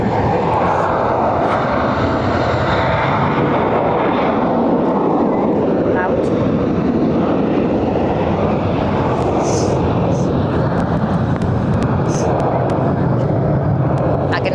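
A Vueling airliner departing Barcelona for Paris thunders past with a loud, continuous jet engine roar that swells and shifts over about fifteen seconds, with talk faintly underneath.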